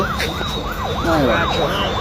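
An ambulance siren wails in a steady rising and falling sweep, loud and close, over continuous street noise, with a second siren tone overlapping partway through.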